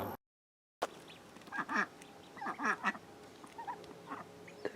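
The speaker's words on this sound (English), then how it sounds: "little ducklings swimming around in his pond. Mamas are guarding them." Ducks quacking around a pond where ducklings swim with their mothers, a series of short nasal calls in quick bursts, moderately close, with no talk.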